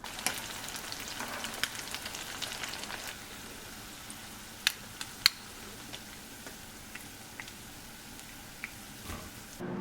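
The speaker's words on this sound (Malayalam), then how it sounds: "കുറച്ചും കൂടെ എക്സ്ട്രാ ഓയിൽ ഒഴിച്ചു കൊടുക്കാം, വെളിച്ചെണ്ണ ഒഴിച്ചു കൊടുക്കാം. അപ്പോൾ ഇതുപോലെ തന്നെ ബാക്കിയെല്ലാം ഫ്രൈ ചെയ്തെടുക്കാം." Chicken pieces frying in extra coconut oil, a steady broadband sizzle with scattered sharp pops and crackles throughout, close and moderately loud with no voices.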